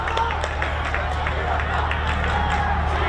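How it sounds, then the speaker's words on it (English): A rugby stadium crowd at an Asian qualifier for the Rugby World Cup between Sri Lanka and South Korea, a continuous swelling roar of cheering and babble with scattered shouts. "The crowd now wakes up."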